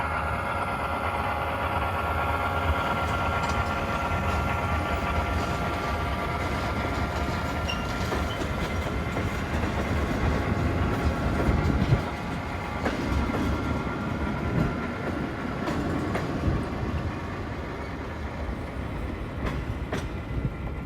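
HO-scale model railroad train of a Great Northern 1970-era layout running past steadily for about twenty seconds, a continuous close rumble and hum of the motor with faint rail clicking, swelling slightly near the middle, with no talking.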